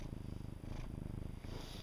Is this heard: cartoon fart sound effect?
no